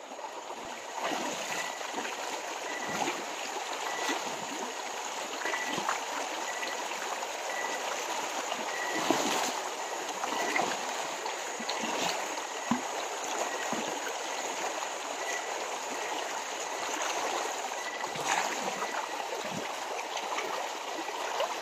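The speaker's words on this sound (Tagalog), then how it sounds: "Malakas yung current ng tubig, oh." Strong, continuous rush of flowing river water, steady and full throughout, with occasional small splashes.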